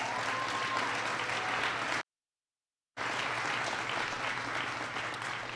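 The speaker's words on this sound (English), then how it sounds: "we just want to give Becky a big round of applause." An audience applauds at an event at a GE plant in Wisconsin, with steady, dense clapping that cuts out briefly and then resumes at the same level.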